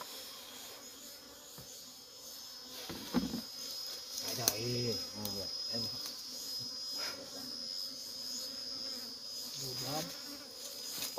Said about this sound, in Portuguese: Tira as abelhas.